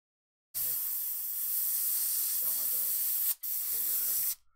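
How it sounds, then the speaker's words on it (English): Paint sprays from an airbrush onto a miniature model's cloak in a steady, close, continuous hiss lasting several seconds, broken by one short pause, with a voice talking softly beneath it. "I'm spraying away."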